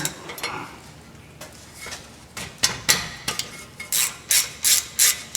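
A 10 mm wrench loosening the ABS wire bolt on a Honda Civic during a front wheel bearing job: scattered metallic clicks and scrapes, then a run of rhythmic ratcheting strokes, close up.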